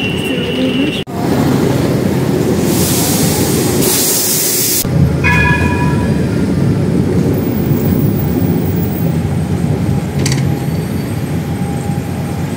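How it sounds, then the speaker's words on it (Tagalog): Interior of a moving passenger train on a trip around Brussels, Belgium, a loud steady low rumble and rolling roar, with a brief hiss and faint tonal squeal partway through, close and continuous. "Tayo sa loob ng train"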